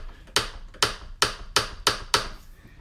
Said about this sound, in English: they'll actually come in and they'll exercise the torque wrench.